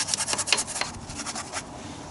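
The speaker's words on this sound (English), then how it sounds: "get in and clean as much of the caliper as you can" A brush scrubs a car's brake caliper clean behind the wheel, a faint run of quick, rhythmic bristly rubbing strokes, close by and soft, with no voices.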